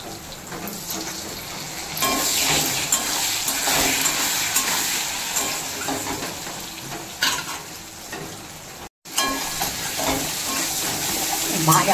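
Frying in a pan while preparing hilsa curry with carrot and potato, a loud continuous sizzle with stirring scrapes close by, briefly cut off near the end before resuming.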